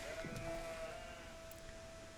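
A sheep bleats in an Age of Empires-style strategy match, one drawn-out bleat that is faint and set against a low background of game sounds.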